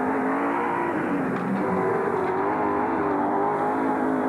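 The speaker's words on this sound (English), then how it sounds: "So Johnson in car number 17 leads the 35 car." Touring race cars at Lakeside in the 1993 Australian Touring Car Championship give a steady, loud engine roar that stays unbroken through the clip, with no voices.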